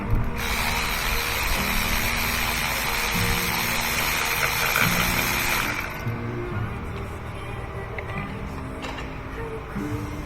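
A socket ratchet turns a spark plug on a third-generation Mini Cooper, a dense steady mechanical whir and clicking close up that drops away around the middle, leaving quieter intermittent ticks over a low hum.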